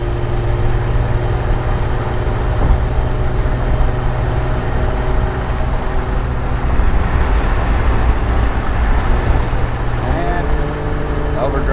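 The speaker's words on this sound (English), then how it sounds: "Put it in overdrive, and we are cruising." A 1976 Triumph TR6 cruises on a highway in overdrive, heard from inside as a steady low engine drone with road and wind roar, the note stepping down near the end.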